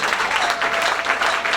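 A church congregation at a worship service on spiritual warfare claps and acclaims in unison, a loud continuous mass of applause with rhythmic pulses and a sustained voice faintly mixed in.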